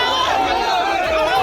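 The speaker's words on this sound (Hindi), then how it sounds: "लेकिन तभी बहुत सारे लोग शोर करते हुए टीएमसी नेता शाहजहां शेख के घर पहुंच गए।" A noisy crowd of angry villagers from Sandeshkhali village moving toward the house of TMC leader Shahjahan Sheikh, a dense, continuous chatter of many voices close by.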